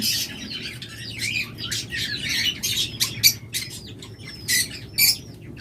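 Lovebirds, a bonded breeding pair, squawk and chirp in repeated sharp, loud bursts over a constant low hum, with short whistled notes mixed among the calls.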